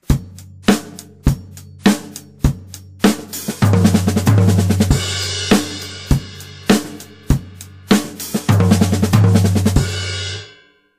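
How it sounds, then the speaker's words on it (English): A drum kit plays a paradiddle-diddle pattern with two accents, right and left, landed on a tom, booming tom hits recurring in a steady cycle between rapid softer strokes, close and loud with no voices. "We could also pull out two accents, so the right and the left, and if we put that onto the tom"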